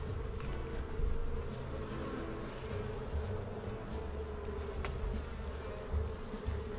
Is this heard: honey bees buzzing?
yes